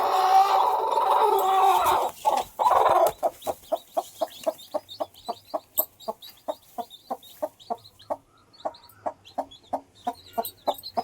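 A hen clucks near newly hatched chicks: a brief scuffle of noise, then a long run of steady, evenly spaced clucks, close and clear, with no talk.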